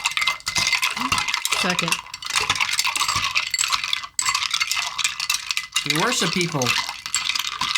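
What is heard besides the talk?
stirring a drink (cocktail) with a spoon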